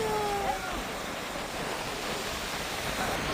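Sea waves wash continuously onto a beach, with a steady, loud surf roar and some wind buffeting the microphone.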